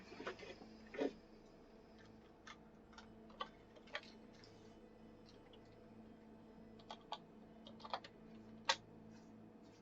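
Naming a new deck in the online card game Magic: The Gathering Arena by typing on a computer keyboard, with soft, steady keystroke clicks spread over about ten seconds, quiet and nearby, with no talk.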